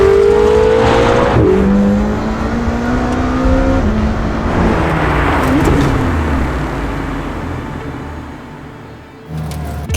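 A McLaren Senna sports car engine revs hard and close, climbing in pitch, then settles into a loud roaring drone as the car pulls away.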